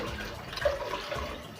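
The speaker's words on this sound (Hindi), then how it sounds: "मैं अब इसमें पानी डालने लगी हूँ" Water pours into a pot of soaking mixed moong and masoor dal, a soft, steady splashing trickle close by with no talk over it.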